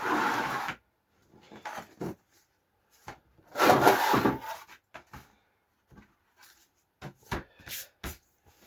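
Hand sanding on plywood drum finish samples, several separate bursts of dry scratchy rubbing with quiet gaps between, close by and fairly soft.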